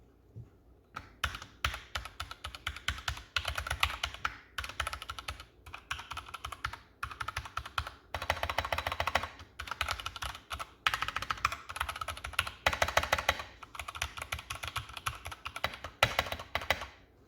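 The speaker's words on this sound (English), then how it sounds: "showing you how loud these switches can get" Loud Anne Pro 2 mechanical keyboard keys hammered hard in rapid bursts, clacking and thudding with brief pauses between flurries of typing.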